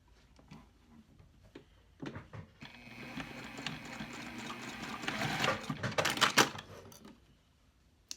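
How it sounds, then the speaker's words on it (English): A sewing machine runs a steady stitching burst along a seam on a reusable cotton napkin with mitered corners, close and fairly quiet, building in speed before stopping, with no talking. "So I'm going to stitch just on that line."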